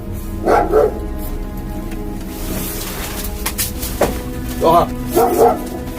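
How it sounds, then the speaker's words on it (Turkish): A dog barks and growls in short paired bursts, a few yips close by, with a person exclaiming briefly in between. "Köpeğin sesi, hırlama sesi."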